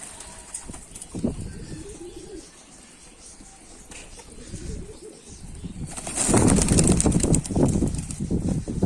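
Pigeons coo and murmur nearby, with a flurry of louder activity and wing flaps near the end; no talking.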